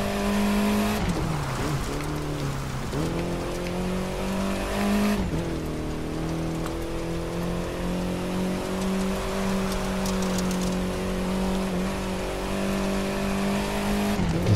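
MINI Cooper S Countryman driving off-road through the Grand Canyon in The Crew 2, a steady loud engine drone with pitch dips and rises as it shifts and takes turns, plus gritty tyre and surface noise throughout.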